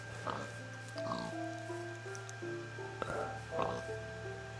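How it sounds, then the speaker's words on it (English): A pig oinks a few times in the Minecraft video game, faint grunts over a steady musical drone of tones and game ambience. "oh, there's a pig"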